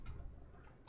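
Typing on a computer keyboard, a few quick clustered keystroke clicks at the start, middle and end of a short moment, close and fairly quiet against a low room hum.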